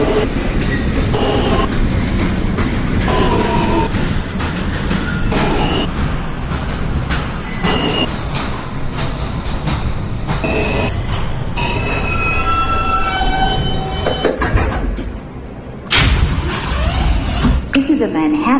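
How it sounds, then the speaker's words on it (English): A Manhattan-bound NYC subway J local train travels between Myrtle Avenue–Broadway and Flushing Avenue, a close, steady rumble with clattering wheels and a few sharp squeals, while a recorded voice makes announcements. "This is a Manhattan-bound J local train."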